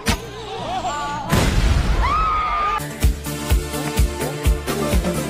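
A bomb hidden in a cake explodes in a game, one sudden loud bang and crash that gives way to rhythmic thumping beats and tones.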